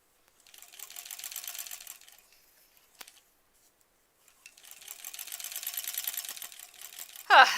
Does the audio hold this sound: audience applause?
no